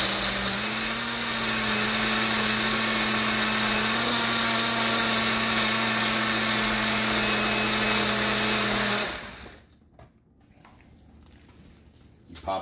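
A Ninja blender whirs steadily as it mixes a peanut butter and chocolate protein shake made with milk, a loud, even motor drone with a fixed hum that runs for about nine seconds and then cuts off abruptly, leaving quiet handling noises.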